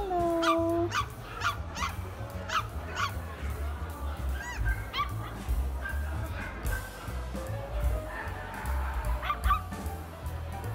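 Several puppies in a mall pet shop yip and bark in short bursts, some high-pitched and whiny, over a steady low background hum indoors.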